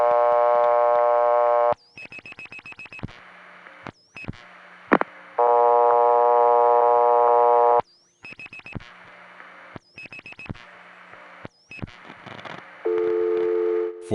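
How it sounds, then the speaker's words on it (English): Telephone line tones on a 1976 life insurance tie-line: steady dial tones broken by bursts of dialing clicks and short beeps, loud and close with no talk. "441 has a new dial tone too."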